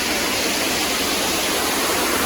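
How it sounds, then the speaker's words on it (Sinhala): Steady roar of a waterfall crashing down from above into a deep pool, a dense continuous wash of falling water filling the space with no talk. "අන්න උඩින් අතින් වැටෙන්නේ ඇල්ල."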